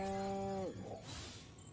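Cow in the video game Destroy All Humans!, a single loud, drawn-out moo that ends abruptly and is followed by faint background noise.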